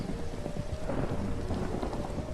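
Steady heavy rain with rumbling thunder in a Minecraft horror short film, a dense continuous downpour roar filling the scene with no one speaking.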